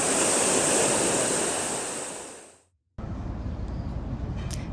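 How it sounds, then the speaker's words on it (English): Ocean waves rushing onto Bavaro Beach in Punta Cana after days of bad weather, a loud broad surf roar with wind noise that fades out, then resumes as a steady wash. "A couple of days bad weather, a lot of waves have made here"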